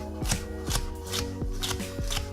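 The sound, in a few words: knife cutting around the core and julienning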